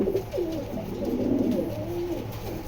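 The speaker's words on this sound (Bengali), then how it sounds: "এটাও বেলজিয়াম জাতের কবুতর" Belgian breed pigeons cooing close by, a few soft repeated low coos over faint room noise, with no voices.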